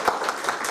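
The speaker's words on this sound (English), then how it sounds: "keep that applause going for UWG Online for sponsoring this today" A lecture audience at the University of West Georgia applauds a guest speaker, a brief, dense wash of many hands clapping at steady volume.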